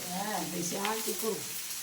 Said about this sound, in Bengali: আর এখন ভাজা ভোজা চলছে